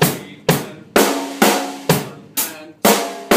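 Drum kit beat with snare drums added on beats 2 and 4, eight evenly spaced sharp hits with decaying tails, close and loud, alone.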